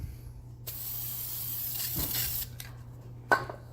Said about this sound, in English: So little squirt of primer.